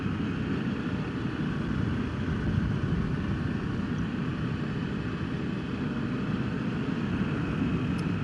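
Pan America motorcycle ridden at dusk in central Pennsylvania, a steady droning engine and wind rush at an even level throughout, no voices.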